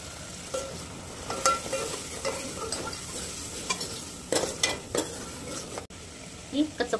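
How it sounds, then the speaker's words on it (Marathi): Masala frying in a pan sizzles after hot water is added, with steady frying hiss, scattered spatula scrapes and clinks close by. "गरम पाणी आहे, गरम पाणी टाकून घ्यायचं."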